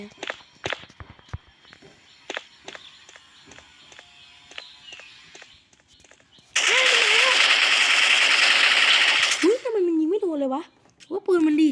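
Gunfire from the SF Mobile shooting game on a phone: sparse clicks and taps, then a dense sustained burst of automatic fire lasting about three seconds, with someone talking over the quieter parts and afterward.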